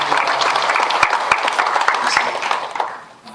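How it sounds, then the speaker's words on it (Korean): A church congregation applauds its elders with warm, dense clapping from many hands, loud and close, fading away toward the end. "우리 어르신들, 내가 어른이다 하는 분들 위해서 건강하시라고 또 주의 축복 속에 거하시라고 박수 한번 해드리세요."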